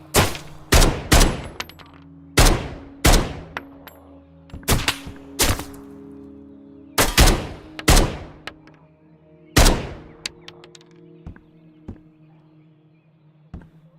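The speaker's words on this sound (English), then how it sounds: "The gunshots sound so real that you immediately just kind of start to pay attention" Loud gunshots ring out in a video game, sharp cracks in irregular bursts and single shots with echoing tails, under a low steady background hum.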